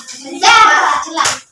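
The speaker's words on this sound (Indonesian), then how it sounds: "Benar, tepuk tangan." A short burst of hand clapping from a school class, fairly close, lasting about a second, followed by a brief second clap.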